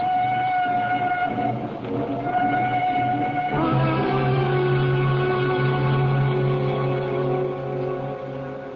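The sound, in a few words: train sound effect in radio drama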